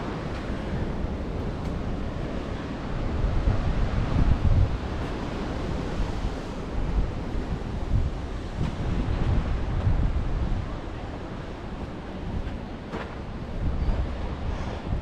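Sea waves and gusting wind by the coast at Watson's Bay, Sydney, form a steady broadband rush with wind buffeting the microphone, rising and falling slightly over fifteen seconds without talk.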